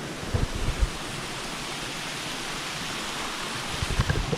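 A waterfall in a mountain stream beside a campsite pours out a steady, dense rush of water noise, with a few low thumps near the start and end.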